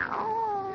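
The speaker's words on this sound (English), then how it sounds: "Oh, it's the cat." A single drawn-out cat meow, close and fairly loud, with a wavering, slightly falling pitch lasting under a second.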